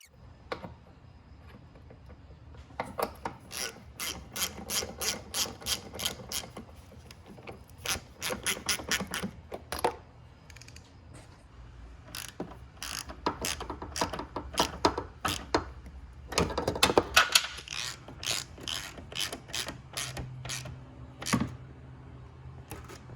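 Clicking ratchet tightening a hose clamp on a Hyundai Elantra during a transmission fluid change, sharp rapid clicks in short bursts with pauses, close and fairly quiet, alongside some handling noise.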